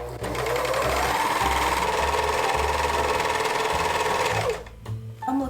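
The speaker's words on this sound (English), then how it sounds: "increase differential feed to its highest, and we're gonna sew up the hem" A serger runs fast and loud while sewing a stretched, lettuce-edged hem on a dress, holding a steady whirring drone for several seconds before stopping abruptly.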